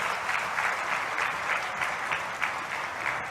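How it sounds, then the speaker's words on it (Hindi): Steady, dense applause from an audience at a ceremony honouring army soldiers, sustained and even throughout with no pauses. "तालियां बजाकर सेना के जवानों का अभिनंदन किया जाना चाहिए"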